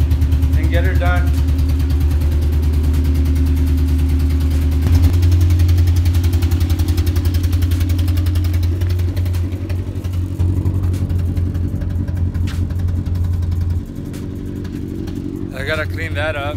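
A 2009 Honda Civic Si runs steadily at idle while being moved inside a garage, a loud close engine drone that shifts slightly in pitch and dips in level near the end.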